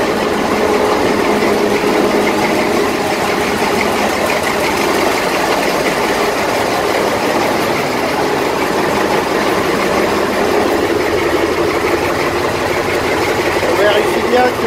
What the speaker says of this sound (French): on va aller éteindre le diesel de queue